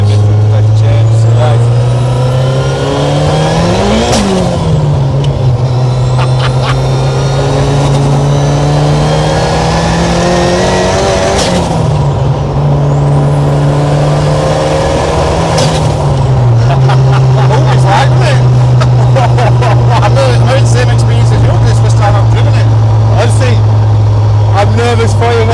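A 600bhp nitrous-injected, rear-wheel-drive Ford Escort Cosworth engine runs loud and close for the whole stretch, with a steady low drone rising in several rev swells, while people talk over it.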